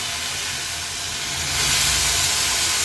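Washed vegetables, including eggplant, go into a spice paste frying in hot oil for a lima bean curry, producing a loud continuous sizzle and hiss that swells partway through.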